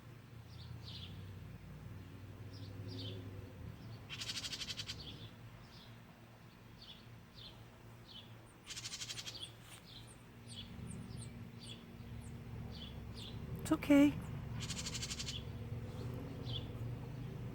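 A small bird in a backyard gives brief, faint chirps in scattered bursts over quiet outdoor ambience, with a short spoken phrase near the end.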